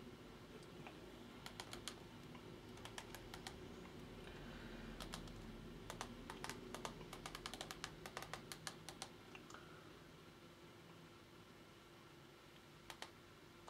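Typing on a computer keyboard, clusters of quick clicky keystrokes in irregular bursts with pauses, quiet and close over a low steady hum.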